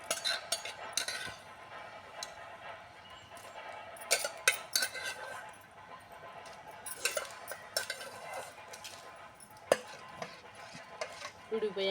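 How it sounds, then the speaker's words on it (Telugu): A spoon stirring tomato curry in a pan at home, with soft scraping, intermittent metallic clinks against the pan and a faint sizzle underneath, fairly quiet and close. "కూర అయితే ఊడిపోయిందండి కలబెట్టేసుకుందాము"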